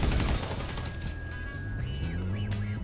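Gunfire rattles in a GTA 5 team deathmatch, a dense, steady volley of shots at close range that runs without pause, with no talk over it.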